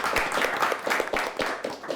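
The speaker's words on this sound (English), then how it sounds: "let's give Traverse City, St. Francis a round of applause" Brief scattered clapping from a small quiz-show audience after a school quiz match, a short, moderately quiet round of hand claps.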